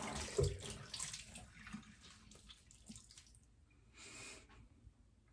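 Cold water runs from a tap in a steady, moderately close stream, briefly rising and tapering, with a few small handling clunks.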